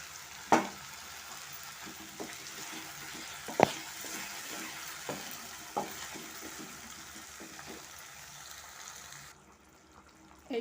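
Ground coconut paste cooks with spices in a pan for a prawn malai curry, making a quiet, steady sizzle broken by occasional sharp clicks and scrapes of stirring.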